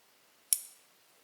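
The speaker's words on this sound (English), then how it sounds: "don't put a whole lot of tension on the tape and cut it" Scissors make one crisp, close snip through a strip of Scotch Super 33 electrical tape during trailer wiring, a single sharp click with a brief fading tail in an otherwise quiet room.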